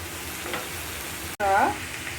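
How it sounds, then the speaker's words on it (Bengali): Small mola fish and chopped ash gourd fry in a pan with a continuous soft sizzle, broken by a sharp click and a brief louder burst of stirring near the middle. "এই যে দেখেন, এত সুন্দর করে মাছ রান্না করছি"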